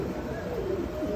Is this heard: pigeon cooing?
yes